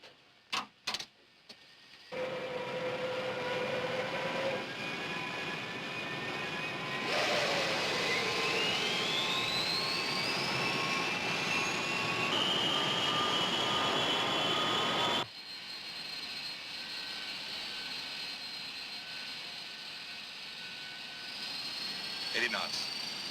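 Airplane engines during takeoff, a loud sustained drone with rising and sliding engine whine after a few sharp clicks at the start, the tone shifting as power builds and then easing to a steadier hum.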